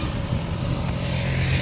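A motorcycle rumbles past near the sea, a steady mid-range engine drone with a faint whine, fairly close and continuous throughout.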